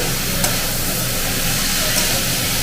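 Steady sizzling from a frying pan while boiled figs and vegetables are stirred, with faint scraping and a couple of soft clinks, no talking.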